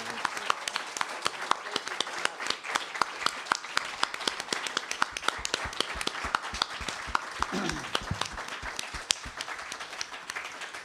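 Warm applause from a room audience after a faculty presentation by two writers, many hands clapping steadily with sharp individual claps standing out, continuing evenly for several seconds.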